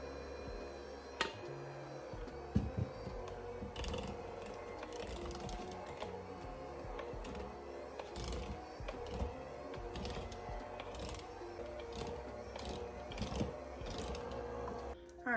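An electric hand mixer on low speed churns cookie dough in a bowl, a steady close mechanical whir with rhythmic clattering and knocking as the beaters work through the thick mixture.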